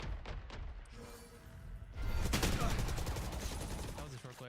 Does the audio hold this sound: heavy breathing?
no